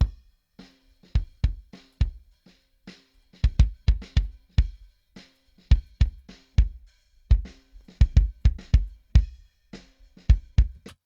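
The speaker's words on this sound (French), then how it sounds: "ça c'est le son de kick que j'aime bien" A kick drum recorded through a 52 microphone in a home studio, played as a rhythmic pattern of deep, punchy thuds with short decays, close and clear with no other sounds.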